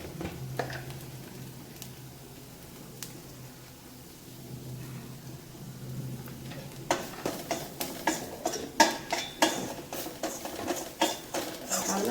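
Chilli, chilli powder and spices being stirred in a pan, first a quiet low hum, then a run of quick, close scraping and tapping strokes from the spoon that grow louder toward the end.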